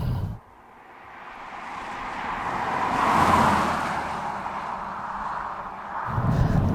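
A 2006 Vauxhall Vectra V6 Turbo accelerates hard along a road, engine and road noise building steadily to a strong rushing peak, then holding as the car gathers pace, with no talking.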